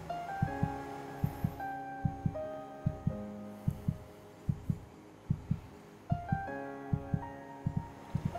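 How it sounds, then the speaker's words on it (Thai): A heartbeat thumps in a steady double-beat rhythm, soft and close, with a faint sustained hum underneath and no talking. "ลองฟังเสียงหัวใจดูดิ"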